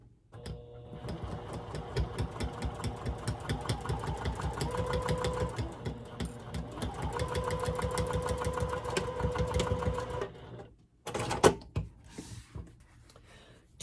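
Sewing machine stitching fabric binding with a scant quarter-inch seam: a rapid, even mechanical chatter running for about ten seconds, a brief pause, then a short final burst.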